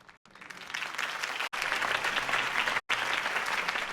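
A crowd applauds after a speech in the Batman Telltale video game, dense steady clapping that breaks off abruptly at a few cuts.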